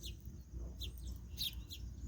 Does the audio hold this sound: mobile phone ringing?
no